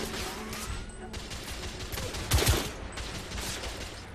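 Gunfire crackles in a video-game gunfight in The Order: 1886, with sporadic shots and bursts under a steady noisy backdrop and a louder pair of cracks near the middle, fairly faint overall.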